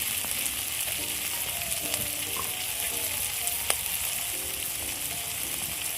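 Turmeric, chili and cumin powder fry in a pan for a rohu fish roe curry, making a constant close sizzle with repeated scraping strokes of stirring and an occasional sharp tap against the pan.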